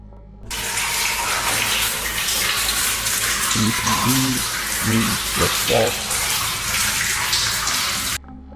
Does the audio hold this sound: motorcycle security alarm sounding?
no